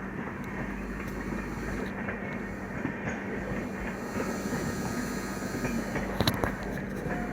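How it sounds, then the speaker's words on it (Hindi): An express train passes on a parallel track as heard from inside another moving train, with a loud, steady rumble, wheel noise and occasional squeals and clicks throughout. "नई दिल्ली बरौनी एक्सप्रेस हमको ओवरटेक करके जा रही है।"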